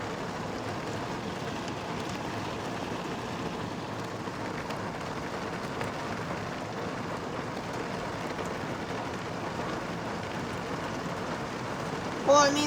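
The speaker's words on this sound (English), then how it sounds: "This rain's nuts, huh?" Heavy rain falls steadily in Texas, a dense, even hiss that holds constant throughout at moderate level, with a brief knock near the end.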